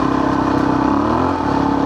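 A motorcycle idles steadily and loudly with its cooling fan whirring, a constant engine drone close by after a hot ride on rough backcountry trails, with no voices.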